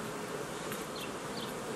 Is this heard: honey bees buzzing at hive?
yes